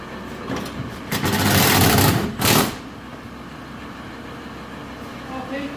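A VW T4 van pulls away on a test drive, its engine swelling into a loud, close roar for about two seconds before dropping back to a steady low rumble.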